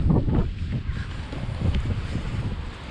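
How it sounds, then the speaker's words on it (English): Wind gusting hard during Hurricane Ian at a Walt Disney World resort, a steady rumbling roar of buffeting air against the microphone that swells and eases throughout. "Oh, it's windy now"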